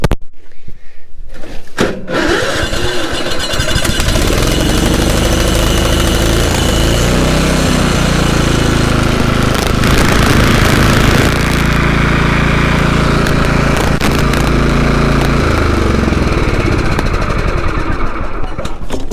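After a short quiet moment an off-grid tiny house engine cranks and catches, then runs loudly and steadily nearby with a rough, buzzing drone that wavers slightly in pitch.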